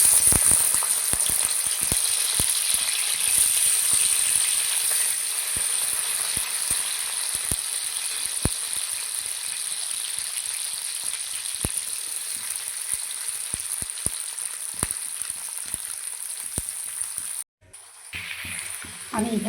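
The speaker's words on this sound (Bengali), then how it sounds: "ঘি আর তেল গরম হয়ে গেছে, আমি এখন সবজিগুলো দিয়ে দিচ্ছি একে একে।" Vegetables frying in hot ghee and white oil for veg pulao, a steady loud sizzle running throughout with crackling pops, briefly cutting out near the end before resuming.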